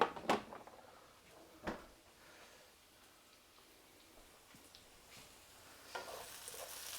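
Shallots frying in a pan give a faint, low sizzle, broken by a few sharp clicks and scrapes of stirring against the pan.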